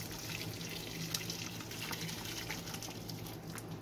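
Hot water from a kettle poured into a pot, a steady soft trickle and splash running continuously, faint and close with no talking.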